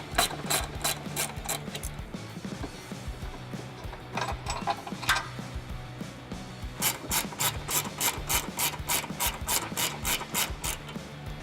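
A hand ratchet loosens 18mm bolts on a Jeep Wrangler JL frame rail behind the muffler, its quick clicking coming in rapid bursts with brief pauses, close and clear.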